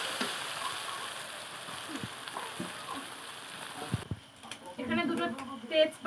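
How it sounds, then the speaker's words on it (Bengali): Crushed ginger and garlic masala fries in hot oil, sizzling steadily and densely, then drops and stirring scrapes near the end. "আদা রসুনের থেঁতো গাড়া গুলো দিয়ে দিলাম। মশলাটাকে খুব ভালোভাবে একটু কষিয়ে নেবো।"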